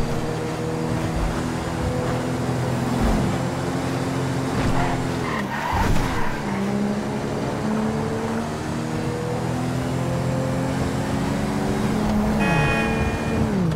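A car in GTA 5 is driven recklessly, engine roaring steadily as tires squeal and skid through turns, with revs rising and dropping and no talk over it.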